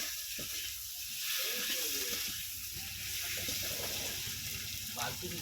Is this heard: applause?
no